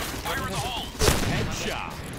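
A single sharp gunshot lands a headshot in a shooting video game, a short burst in the middle of continuous casual talk from players.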